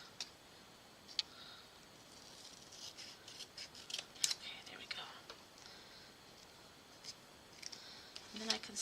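Crisp, close snips of scissors cutting paper while a steampunk journal is being made, sporadic sharp clicks spread across a quiet room, with soft whispery voice sounds in places.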